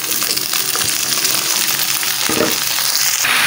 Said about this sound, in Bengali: আর এইদিকে হচ্ছে পেঁয়াজ আর ঝালটা দিয়ে দিচ্ছি, একটু ভাজা হয়ে গেলে আমি পুঁই শাকটা দিয়ে দিব